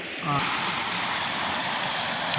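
Water pouring over a weir spillway above Tanod waterfall in Nam Som, Udon Thani, a steady broadband rushing close by, with a brief voice at the start.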